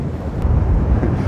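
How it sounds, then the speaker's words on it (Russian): Strong storm wind on the central beach in Anapa roars and buffets the microphone in a loud, low rumble for a brief moment. "Ветер только усиливается."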